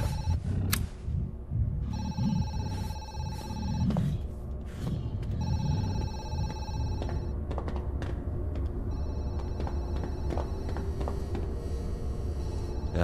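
Telephone bell ringing in the Zoochosis horror game, repeated rings in bursts of a few seconds with pauses, loud over a dim rumbling background and footsteps.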